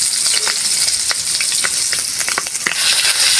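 Pork humba sautéing in oil gives a loud, close, dense sizzle with scattered pops and crackles throughout, with no voices.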